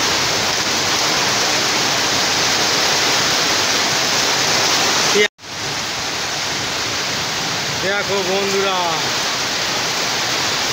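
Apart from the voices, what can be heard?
Kalbaishakhi storm with heavy rain and hail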